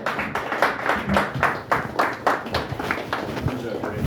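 Audience applause for a comedian at a stand-up show, a steady patter of claps with voices mixed in underneath.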